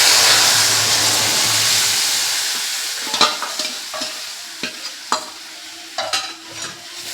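Moong dal tipped into hot oil with cumin sets off a loud, steady sizzle that eases off, followed by a spoon scraping and clinking against the pan in irregular strokes.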